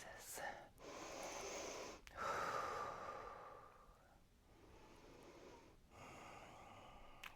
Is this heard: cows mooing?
no